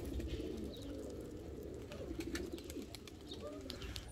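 Pigeons coo steadily in a large loft where flying pigeons are kept, a continuous low murmur of overlapping coos with faint chirps and wing flutters throughout.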